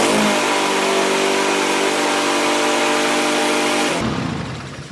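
A Honda motor on a piece of power equipment runs at a steady idle, loud and close. Its even hum holds for about four seconds, then cuts off and winds down.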